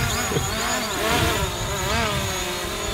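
DJI Mavic drone propellers spinning nearby, a steady buzzing whine with wavering pitch like a swarm of insects, loud and continuous through the short stretch with no talking.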